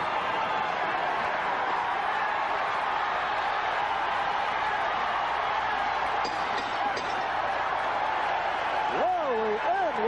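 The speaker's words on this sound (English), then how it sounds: "Listen to the crowd." Boxing arena crowd at a Larry Holmes versus Lucien Rodriguez fight roars in a steady, dense wall of cheering and noise throughout, with a voice rising over it near the end.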